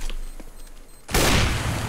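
Dense burst of automatic gunfire in Counter-Strike: Global Offensive erupts suddenly after a quiet stretch of faint game ambience, loud and sustained to the end.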